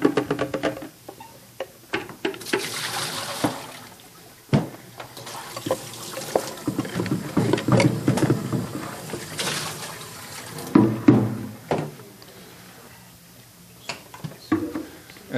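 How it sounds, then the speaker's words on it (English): Warm water runs from a tap to rinse out an ice cream machine, a steady splashing stream with pauses and bursts as it fills and flushes, close and fairly loud with no talk. "2 warm rinses and I'm finished."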